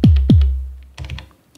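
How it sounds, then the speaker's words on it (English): Two punchy kick drum hits from an Elektron Digitone synthesizer, thickened with two-voice unison, thump loudly in quick succession, followed by a softer burst of clicky percussion that fades out, with no talking. "I sometimes go to the unison menu and just give them a unison of two voices, which makes them a bit richer"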